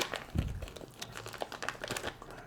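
Packaging around a wedge of Parmigiano Reggiano crinkles and tears as it is cut open with shears, a quick close burst of plastic crackles and rustles.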